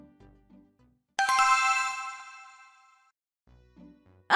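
A phone ringtone sounds once, a bright chiming tone that rings out and fades over about two seconds, set between stretches of quiet talk.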